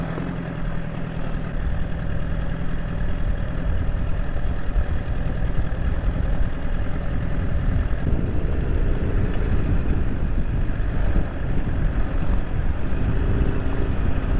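A Honda CBR1000RR motorcycle runs on a snowy road at 30 degrees, its engine a steady close rumble that shifts pitch slightly as throttle is eased on and the rear tire spins.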